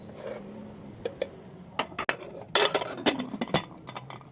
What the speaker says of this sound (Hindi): कुकर का ढक्कन लगा लेंगे,